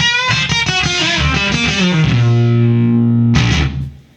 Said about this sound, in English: You can't normally get a funky sound out of a fuzz pedal, but here you can.